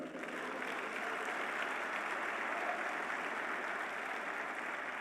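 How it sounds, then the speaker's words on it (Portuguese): A congregation at a church service applauds, a broad, steady patter of many hands clapping at a distance, fairly soft and unbroken, with no voices on top. "Você não vai aplaudir o Senhor?"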